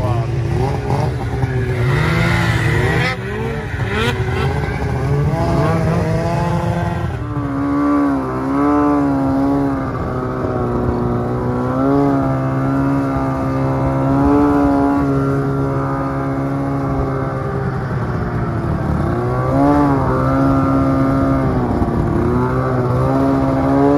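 Snowmobile engine roaring loudly and steadily while riding on a river, a continuous close drone with pitch swells as the throttle shifts, with voices faintly underneath.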